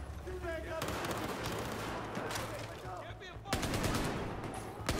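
Bursts of rapid automatic gunfire ring out in the Battlefield 4 campaign's Shanghai mission, clustered volleys that pause briefly and then resume loudly amid game sound effects.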